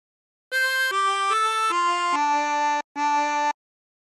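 A harmonica plays a phrase of the sea shanty What Shall We Do With the Drunken Sailor: six clear, sustained notes at close range, stepping down in pitch, with a brief gap before the last note.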